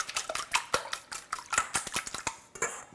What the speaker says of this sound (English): All right, so you're gonna whisk this.